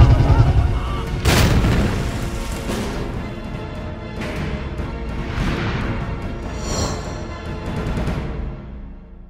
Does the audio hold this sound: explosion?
yes